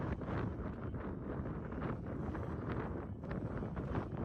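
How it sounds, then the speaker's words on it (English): Wind blows hard outdoors at a river fishing spot, a dense, continuous rumbling gust buffeting the microphone throughout. "The wind is blowing opposite the current."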